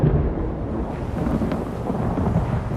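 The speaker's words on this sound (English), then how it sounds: "The storm is coming." Thunderstorm in the video game Elder Scrolls Online, a steady loud rumble of thunder with rain and wind noise running throughout, no voices.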